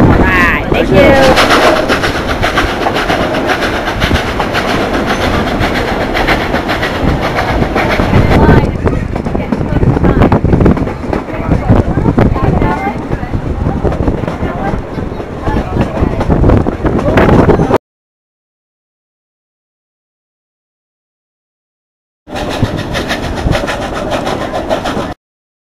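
Durango & Silverton narrow gauge railroad train rolling along its tracks on a climb toward a 3% grade above 9,000 feet: a loud, continuous rumble mixed with wind buffeting that drops to silence for several seconds, then resumes.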